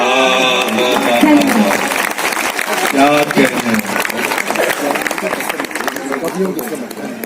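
An audience applauds at a ghazal mushaira poetry recital in Panchkula, Haryana, the clapping continuous and full while a voice speaks over it near the start.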